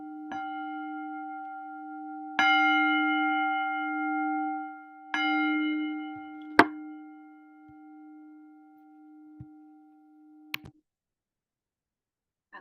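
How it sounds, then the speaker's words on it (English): A meditation bell struck three times in a calm session, each strike ringing out with a long sustained tone that slowly fades, followed by a few faint clicks and light knocks in near silence. "So I'm going to invite the bell."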